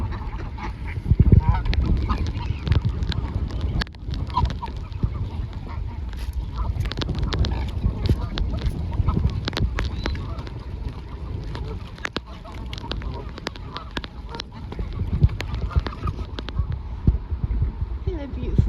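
Swans honk and call repeatedly at close range during a rescue in steady rain, with a person talking throughout and dense background noise.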